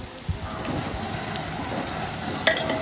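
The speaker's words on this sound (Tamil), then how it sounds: "வெங்காயம் போட்டு லைட்டாக ஃப்ளேம் ஏற்றிக்குங்க. ஃப்ளேம் ஏற்றிட்டு நல்லா வெங்காயம் பொன் முருகிற வரைக்கும் நம்ம என்ன செய்யணும், வதக்கிட்டே இருக்கணும்." Onions sautéing in a pan for mutton biryani give a steady, close sizzle with faint stirring scrapes, running continuously with a brief clink near the end.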